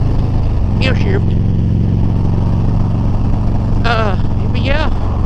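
A brand new motorcycle rides along a road, its engine droning steadily and loudly up close beneath constant wind rush, while a rider speaks briefly.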